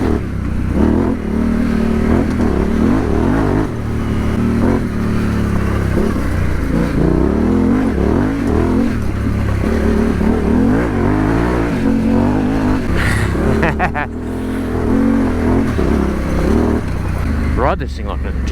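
A Yamaha Tenere 700 motorcycle engine revs and drones steadily while riding off-road on single-track trail, loud and close throughout, with a few sharp clattering bumps near the end.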